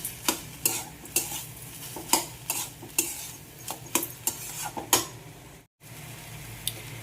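Vegetable chop ingredients and sugar being mixed together in a bowl, giving a series of distinct scraping, clattering stirs at an irregular rhythm, close and fairly loud, with a brief gap near the end and no talking.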